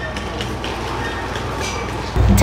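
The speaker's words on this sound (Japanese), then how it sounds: "こちらサンライズエクスプレスに乗って帰ります" Sunrise Express overnight sleeper train at a station platform, a steady low rumble of the standing train with a sudden louder surge of engine and rail noise near the end.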